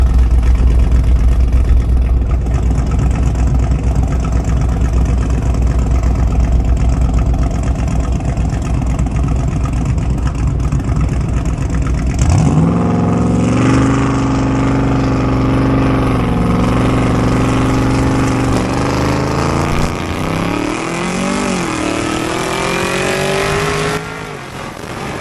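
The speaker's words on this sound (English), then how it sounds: "I'm just going to smash the gas and leave it in sport." A sports car engine roars loudly at full throttle, rising in pitch through several gear changes as it accelerates hard, with no talking.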